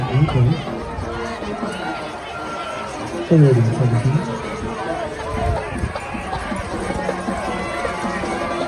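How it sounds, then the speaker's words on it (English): Home cheering section at a Texas high school football area championship game, Steele versus Round Rock, roars in a broad wash of crowd noise. A commentator talks over it throughout. "That loud dragon cheering section got just what they wanted."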